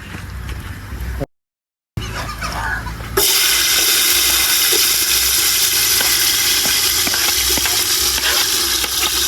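Onions dropped into hot oil for vegetable biryani, a loud hiss erupting after a brief silence and settling into a steady, close sizzle with faint stirring clicks.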